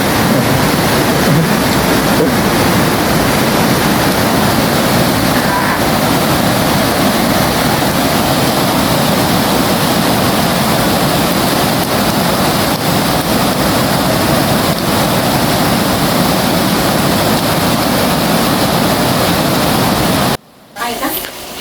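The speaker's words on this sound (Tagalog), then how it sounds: "Sa lakas ng agos guys, di mo talaga kayang tumawid na walang kakapitang lubid eh." A strong river current rushes as a loud, unbroken roar, close and steady for about twenty seconds before it cuts out briefly near the end.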